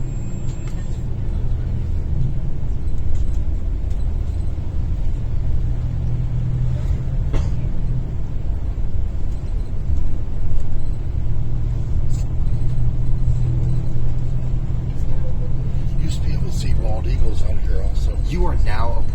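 A car drives along a road at Kennedy Space Center toward NASA's Vehicle Assembly Building, with a steady interior engine and tyre rumble throughout and someone speaking over it.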